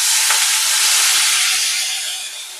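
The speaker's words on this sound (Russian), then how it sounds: "немножечко жирок польем на наш лук, в нашу сковородку" Beef tongue broth fat ladled onto onions in a hot frying pan, a loud sudden sizzle and hiss that holds steady and then slowly fades, no voices.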